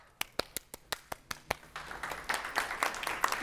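A small audience at a networking event claps, starting with a few sharp, evenly spaced single claps that quickly thicken into brief, light applause, fairly faint overall.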